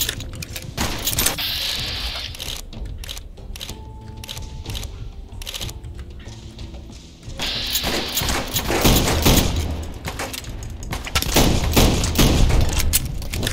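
Gunfire in the video game Fallout New Vegas, played with mods: dense bursts of rapid shots that grow louder and busier in the second half, with no talk.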